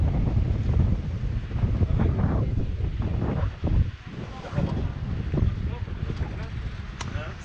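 Wind buffets the microphone aboard a sailboat under mainsail in the tropics near Les Saintes, a constant roar with water and hull noise, and voices talk over it.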